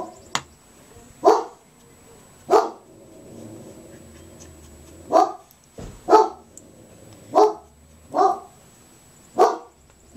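A dog barks in sharp single woofs, about eight of them spaced a second or so apart, loud and close in an otherwise quiet room.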